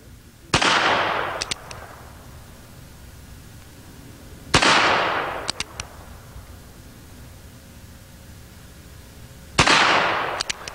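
Three loud handgun shots test-fired at a target, spaced several seconds apart, each a sharp crack with a ringing echo trailing off over an outdoor range.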